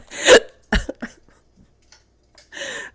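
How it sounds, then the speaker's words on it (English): Someone hiccups sharply and close by, a few abrupt bursts with quiet gaps between them, then a breathy sound at the end. "Sorry, I got the hiccups."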